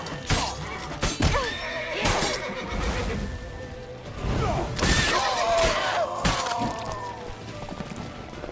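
Horse neighing and whinnying in The Witcher 3: Wild Hunt, with hooves clattering, crashes and game effects during a chase. Several loud whinnies stand out over the hoofbeats and combat noise.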